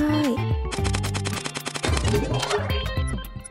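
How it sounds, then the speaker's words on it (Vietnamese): Rapid gunfire from a shooting video game crackles in dense bursts, layered with game music and sound effects, loud and continuous. "giờ thì mình bắn thôi"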